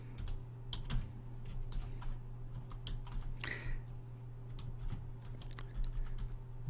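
Light typing on a computer keyboard while entering an email subject line, a quiet, irregular patter of soft key clicks over a steady low electrical hum.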